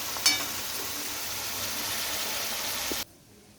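Onion sizzles loudly in hot oil in a pan while it is stirred, a steady frying hiss that cuts off abruptly near the end.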